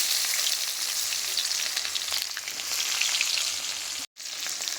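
Onion frying with whole garam masala, cinnamon, cloves, cardamom and cumin in a pan gives a loud, steady hiss and crackle that runs unbroken for several seconds, with a brief cut near the end.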